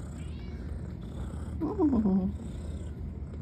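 A cat purrs steadily and low while kneading, close by, with a brief soft vocal murmur partway through and a person faintly present.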